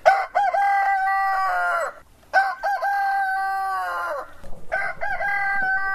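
Backyard chickens being fed apple pressings, with a loud nearby rooster crowing in three long drawn-out calls separated by short pauses, and some clucking between them.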